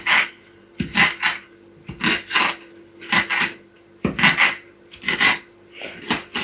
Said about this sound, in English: then we can begin chopping them up into little bits